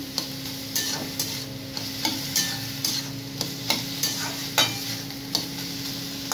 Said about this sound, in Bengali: চিনি দিয়ে আবার নাড়াতে হবে